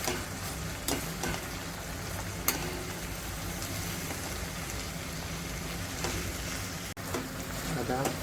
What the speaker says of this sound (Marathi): आता झाकण बाजूला करून कंटोल्यांना परत नीट परतून घ्यायचं,